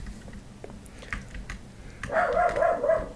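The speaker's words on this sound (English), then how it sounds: "My dog's barking again!" A dog barks in a short burst of several yappy barks at a middle distance, coming after a quieter stretch of faint clicks and rustles.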